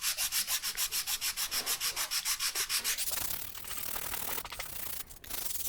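Model airplane wing ribs for a J3 Cub are sanded by hand, first in quick, even rhythmic strokes, then in a rougher, irregular rubbing scrape, close and fairly quiet.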